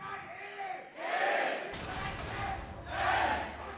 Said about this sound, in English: And as we hear, the crowd still favors Origen.